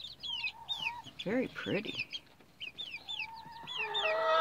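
Baby chicken pullets, including a barred rock chick, cheep and cluck nearby in a lively chorus of high chirps, with a person briefly speaking softly among them.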